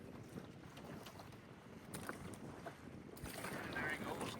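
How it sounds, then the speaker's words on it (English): Wind gusts across a lake near a small boat, a steady rushing buffet on the microphone that grows stronger toward the end. "the wind is pushing us off the lake"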